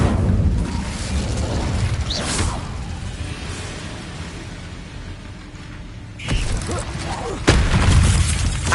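Incendio fire spells in the video game Hogwarts Legacy produce whooshing bursts and booms over a busy game soundscape, with a sharp blast around the middle and another louder burst near the end.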